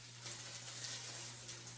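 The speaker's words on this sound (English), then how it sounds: "You can hear it sizzle." Collard greens sizzle softly in a hot pan with a steady, faint crackling hiss and a low hum underneath.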